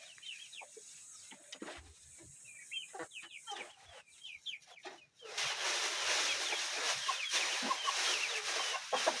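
Chickens in a backyard coop cluck and squawk in short, scattered bursts, fairly close, before a louder, denser stretch of clucking and rustling takes over the second half.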